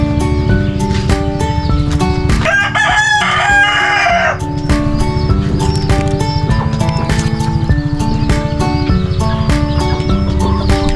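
A rooster crows loudly nearby among a flock of clucking backyard chickens where hens nest, with repeated sharp clicks and a constant low rumble underneath.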